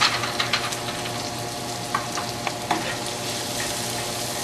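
Pine nuts sizzle in a hot pan with a mixed vegetable sauté, a steady close frying hiss broken by soft clicks and scrapes as the pan is stirred, with no talking.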